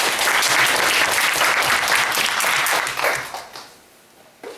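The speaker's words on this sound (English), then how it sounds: "Please give Shiwa a round of applause." Classroom applause after a student's writing presentation, a dense burst of many hands clapping steadily for about three seconds, then thinning out and fading, with a brief final flurry.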